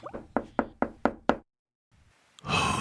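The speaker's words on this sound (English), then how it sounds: "There's a knock at the door." Six firm, evenly spaced knocks on a wooden door, then a brief silence before a burst of louder noise.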